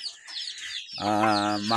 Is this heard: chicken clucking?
yes